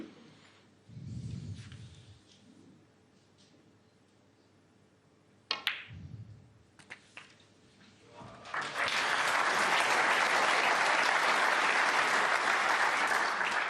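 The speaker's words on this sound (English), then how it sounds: "Well-merited applause playing with running side like that." A snooker audience at a World Championship quarter-final bursts into sustained, loud applause after a shot, with quiet ball clicks and soft sounds from the hall before the clapping swells and holds steady.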